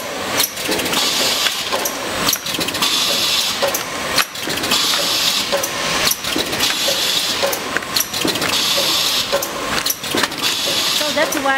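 A ziplock doypack pouch packing machine runs in a steady cycle, repeating mechanical clatter and hiss with sharp periodic knocks roughly every two seconds, loud and close, with a voice talking over it.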